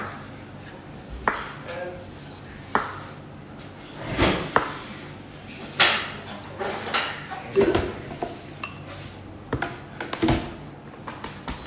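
Kitchen pots being handled and set down, a run of sharp metallic knocks, clanks and scrapes at irregular intervals, close by, with people talking in the background.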